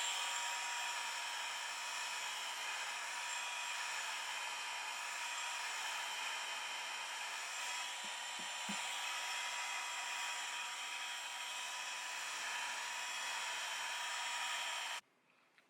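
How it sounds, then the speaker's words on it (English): A heat gun runs in a steady, even whoosh of hot air aimed at the tail light of a 2000 Honda Accord, continuous and moderately loud, with a couple of small knocks midway before it cuts off at the end. "That's why I'm using this heat gun."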